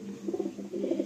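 Madrasi pigeon cooing close by, a short burst of soft, low, throaty pulses in two quick phrases.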